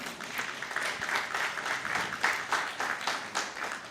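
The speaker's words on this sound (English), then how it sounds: "Please a round of applause to that young lady." A modest crowd at a book launch claps for a young girl, light, uneven applause at moderate distance with pulsing swells, fairly soft overall.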